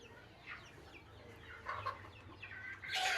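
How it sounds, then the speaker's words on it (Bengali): Native deshi chickens on a farm clucking in short, scattered bursts from several birds, fairly near but soft, with a louder burst of clucking at the end. "এই যে দেশি মুরগিগুলা আমি আপনাদেরকে দেখাই।"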